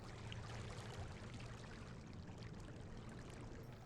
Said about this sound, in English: That one's more like water flowing.